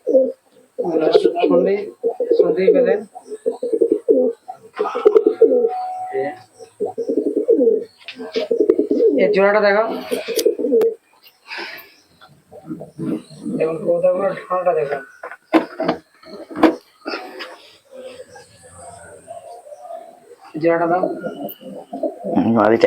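Madras and Malbai breeding-pair pigeons coo in low, throaty rolls beneath someone talking almost continuously nearby, the cooing rising in the gaps between his words.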